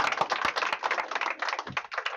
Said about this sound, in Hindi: चलिए ताली मार के स्वागत करेंगे।